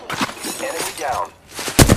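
Rapid video game gunfire from an Apex Legends arena match, with short sharp shot bursts, a stretch of ringing and mechanical sounds, and a loud burst of shots at the end.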